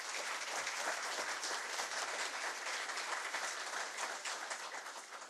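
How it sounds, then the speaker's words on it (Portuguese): Audience applause at a regional electoral court plenary session, honoring a doctor: a steady, dense wash of clapping from a large room, faint and distant, continuing evenly throughout without talk. "eu quero solicitar a todos uma salva de palmas ao Dr."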